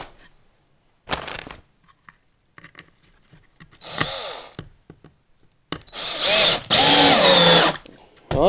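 A power drill drives screws into wood in several short bursts, the motor whirring up and stopping between pauses, with the last burst longest and loudest, plus small handling clicks.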